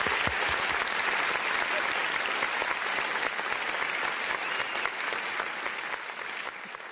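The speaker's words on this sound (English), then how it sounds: "I got to give my boy an applause." A burst of applause sound effect, dense rapid clapping from many hands, loud and full at first and easing slightly as it runs on with no voices over it.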